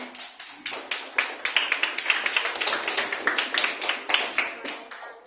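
A classroom group claps together in a quick, fairly even rhythm for about five seconds, the applause strong and close.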